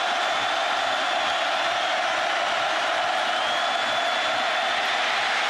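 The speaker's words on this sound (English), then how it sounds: "the Purdue crowd is alive" A Purdue football stadium crowd roars steadily throughout at a college game against Notre Dame, a dense, loud wash of cheering with no breaks.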